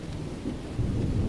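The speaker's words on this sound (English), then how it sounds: "The thunder goes off randomly too" Rolling in-game thunder from a Rec Room fishing game, a low continuous rumble that swells louder toward the end, heard alone with no talking.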